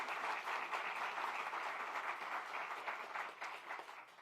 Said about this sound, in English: Let's give the director a round of applause